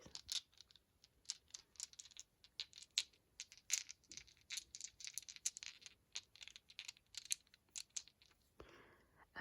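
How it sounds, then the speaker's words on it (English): Small black and clear dice rattling and clicking as they are handled up close, a quiet run of irregular sharp ticks and light clatters with a brief scraping burst near the end, no voices. "These dice here, they are black and clear."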